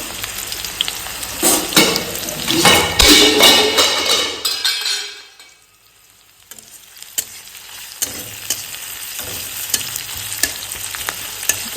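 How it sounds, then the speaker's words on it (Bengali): Sliced onion and dried red chillies frying in hot oil, a loud sizzle with stirring scrapes and clinks that cuts out abruptly, followed by quieter scattered taps and clinks. "পেঁয়াজটা একটু ভেজে নেব, আর শুকনো লঙ্কা দিয়ে দিচ্ছি।"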